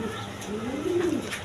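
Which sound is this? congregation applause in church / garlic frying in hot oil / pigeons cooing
pigeons cooing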